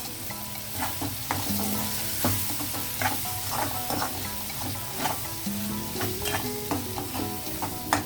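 Shrimp and cauliflower for a curry fry in a pan with chilli powder, a steady close sizzle broken by repeated scraping stirs and utensil clinks throughout, with no talking.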